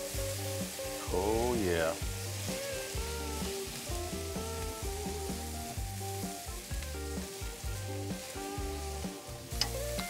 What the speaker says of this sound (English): I'm just grilling up these last few ribs